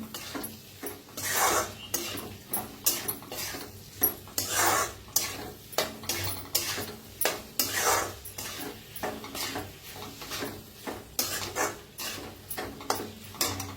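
Cluster bean curry mixed with crushed peanut powder in a pan, heard as a steady run of close, rhythmic scraping and rubbing strokes of a spoon against the pan, repeating every second or so with no talking.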